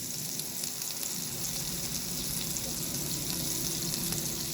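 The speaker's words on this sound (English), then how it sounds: "So I'm gonna go ahead and fry all these." Cornstarch-coated salmon frying in a pan, a steady, dense, crackling sizzle heard up close without interruption.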